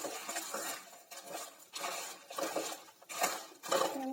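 Dry roasted chillies, coriander seeds, cumin and mustard seeds are scraped and stirred in a pan with a spatula, giving repeated rhythmic scratching strokes with light rattling, close up and fairly quiet.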